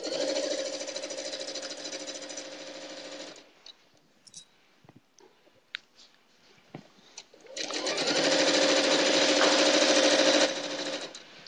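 A sewing machine stitches quilt strip sets in two loud steady bursts, separated by a quiet pause filled with small handling clicks and rustles.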